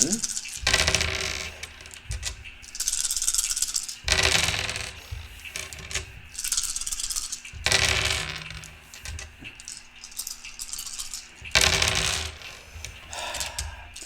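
Colored dice rattle and clatter across a tabletop in several separate rolls, each a bright clicking burst of a second or so, with quieter gaps between them.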